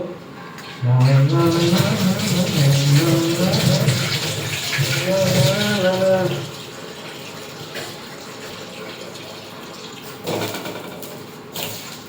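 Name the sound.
running water while washing potatoes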